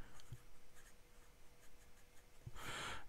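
A fine steel-nib BENU Briolette fountain pen writing on paper gives a faint, steady scratch with a few soft taps and a louder stroke near the end, heard close and quiet.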